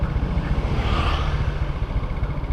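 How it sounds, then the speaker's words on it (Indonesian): A small motorcycle ridden by a young child learning to ride, its engine a steady low rumble that stays close and constant for the whole stretch with no clear revving. "Nah ini anaknya belajar naik motor."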